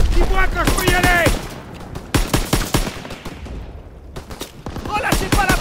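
Machine gun fire in the World War II shooter game Call of Duty WW2, with sustained rapid bursts and scattered gunshots, loud and close, under shouted voices.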